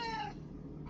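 A cat gives a short, clear meow that fades quickly, followed by quiet background noise.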